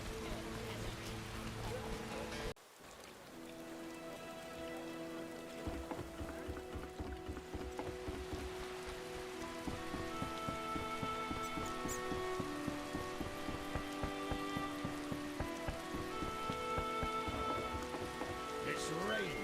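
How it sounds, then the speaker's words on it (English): Steady rain patters across a forest scene in The Witcher: Enhanced Edition, a dense, even hiss that continues throughout beneath sustained in-game music after a brief drop near the start. "It's raining."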